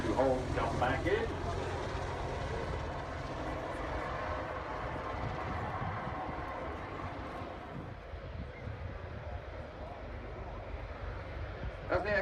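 An Apache attack helicopter lifts off at the Farnborough Airshow 2016, its rotor and engine roar loud and broad at first, then easing back into a distant rumble, with a commentator's voice over the public address.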